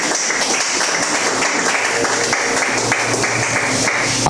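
A church congregation applauds during a French-language service, steady dense clapping filling the whole stretch at close range with no voices over it.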